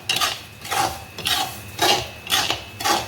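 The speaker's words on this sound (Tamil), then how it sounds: "விடாமல் வறுக்கணும், இல்லைன்னா கலர் சேஞ்ச் ஆகும்." Samba rava semolina dry-roasting in a pan, stirred continuously with a spoon that scrapes and clinks against the metal in a regular rhythm of about five strokes, close and fairly loud.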